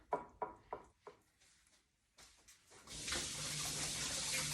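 A kitchen tap runs while a whole chicken is washed, with a few wet handling splashes first and then a steady, close stream of water pouring.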